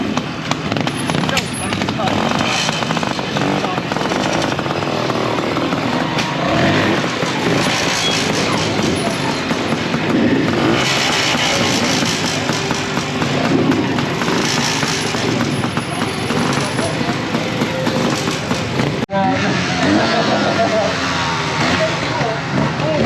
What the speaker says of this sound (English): if you like being deafened by the roar of an engine, this is probably the place for you